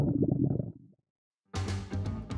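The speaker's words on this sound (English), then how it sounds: "There's nothing more embarrassing than your stomach growling at an inopportune moment." A human stomach growls in two bursts of low gurgling rumble, close and fairly loud, split by a second of silence, with no talk.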